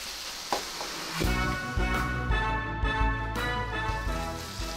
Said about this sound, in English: just stirring and cooking for about 5 to 8 minutes. I want to brown the meat a little bit.